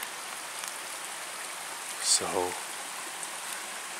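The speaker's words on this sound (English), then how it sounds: "the stream is a lot louder because there's a lot more water since it rained all last night" A rain-swollen stream in a Pennsylvania woods rushes in a steady, broadband wash, loud and continuous, with a brief voice and a short tonal sound rising out of it partway through.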